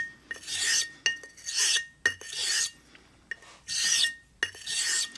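A Portland Razor Company Siren quarter-hollow straight razor is honed on a stone, giving rhythmic raspy scraping strokes, about six in five seconds, each a bright hiss separated by brief pauses, close and clear with no talk.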